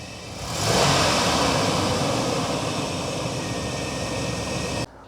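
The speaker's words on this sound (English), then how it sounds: "Let's snap the throttle." A nearby Chevrolet Astro or GMC Safari van engine roars up sharply as the throttle is snapped, holds a high, steady whine, then cuts abruptly back down near the end.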